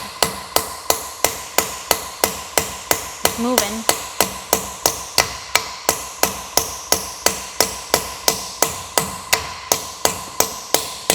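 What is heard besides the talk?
hammer driving out engine valve guide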